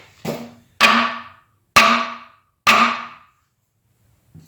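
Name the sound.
knife spine whack test on Spyderco Resilience liner lock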